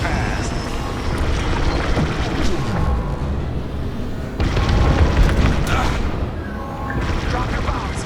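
Bombs burst in Star Wars Squadrons, heavy booming blasts rolling amid continuous starfighter combat noise, loud and dense, with radio voices talking over parts of the din.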